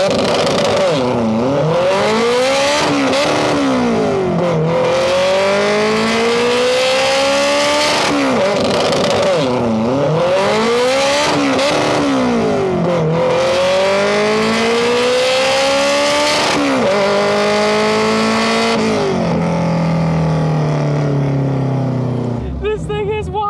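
A K24-swapped Honda mini-truck engine revs hard and accelerates through repeated rising sweeps, dropping briefly between shifts before climbing again, loud and close throughout, with a sharp burst of noise at the very end.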